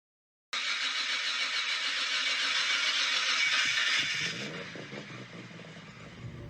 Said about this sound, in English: excuse the noise because somebody's having some massive delivery or something out the back of my house